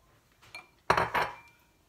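Nuts are stirred into banana bread batter in a bowl, producing a few short scraping clinks of utensil against the bowl, with one louder burst in the middle, close and otherwise quiet.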